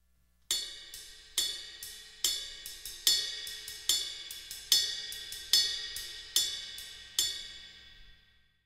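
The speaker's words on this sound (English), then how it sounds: "do combinations where you're playing the bell and the flat of the cymbal" Drummer strikes a ride cymbal with sticks, mixing bell and flat strokes: about a dozen bright, ringing hits at a steady pace, each with a sharp attack and long shimmering decay, played alone with no voice.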